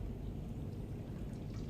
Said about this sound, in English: And then pour slowly